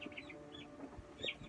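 Meat chicken chicks clucking softly in a brooder, a few short bird calls over steady low background noise, with a slightly louder call near the end.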